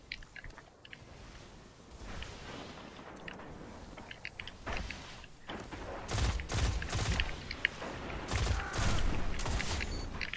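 Gunfire from an Iron Banner multiplayer match in the video game Destiny: loud bursts of shots crowd the second half over a busy background of game noise.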